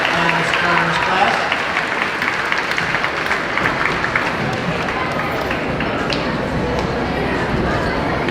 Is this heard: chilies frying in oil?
no